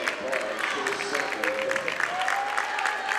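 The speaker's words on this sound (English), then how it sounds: "The fans giving the Chargers a round of applause as Matt Thacker will step to the line" Fans at a high school basketball game applaud the Chargers, a broad crackle of clapping from the crowd running steadily beneath a commentator talking over it.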